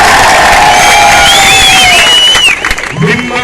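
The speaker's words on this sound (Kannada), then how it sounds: "ತಿರ್ಸಿ ಒಂದ್ಸಲ ಜೋರಾಗಿ ಚಪ್ಪಾಳೆ ಹೊಡೆಯೋದ್ರ ಮೂಲಕ" A large outdoor crowd at a Hindu rally cheers and claps loudly, a dense roaring wash with whoops and shouting voices on top, fading slightly at the end.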